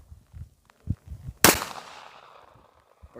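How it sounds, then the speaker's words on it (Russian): A single sharp pistol shot fired at a bottle cracks loudly outdoors and echoes as it fades, preceded by a few soft thumps and faint sounds. "Командир дал свой пистолет, чтобы попробовать выстрелить. Стреляю вон по той бутылке."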